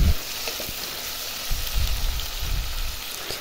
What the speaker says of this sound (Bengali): এটা আমি পেঁয়াজ ভেজে দিব